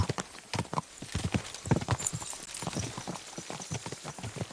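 In the video game Kingdom Come: Deliverance II, a horse's hooves clip-clop in a quick, uneven rhythm close by, with a whinny mixed in among the steps.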